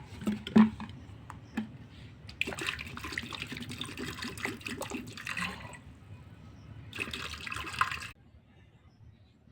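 Water is poured into a pressure cooker holding soaked ingredients and potatoes, in two splashing, gurgling bursts with a quiet pause between them, close and moderately loud before falling to near silence.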